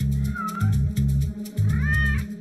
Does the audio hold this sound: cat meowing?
yes